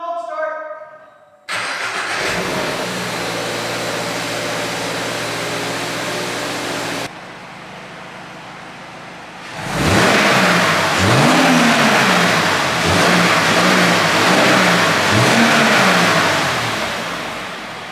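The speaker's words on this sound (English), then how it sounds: "all of you have already heard what the stock exhaust sounds like" A Subaru BRZ engine with stock exhaust cranks and fires up on a cold start, settles into a steady idle, then revs several times to about 5,000 RPM, rising and falling loudly close by.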